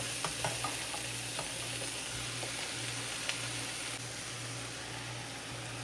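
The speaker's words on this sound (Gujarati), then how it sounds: "હવે લસણ મરચાં થોડાક ચડી ગયા એટલે એમાં નાખી દઈએ બધું પાલક." Spinach tossed into garlic and green chillies sizzling in a pan and stirred, a quiet, even frying hiss with a few faint scraping taps early on and a low steady hum beneath.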